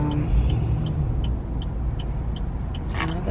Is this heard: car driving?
yes